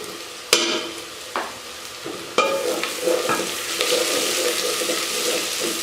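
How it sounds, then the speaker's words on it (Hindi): Chopped tomatoes for chana karela fry in a pan, a wet sizzle joined by clattering spoon stirs and sharp scraping hits, close and busy, rising in intensity toward the end. "बस अब मैंने इसको थोड़ा सा और फ्राई करना है"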